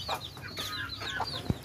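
Hens clucking close by in a backyard coop while a chicken is caught and shut inside, a steady run of short throaty clucks with one sharper squawk near the end.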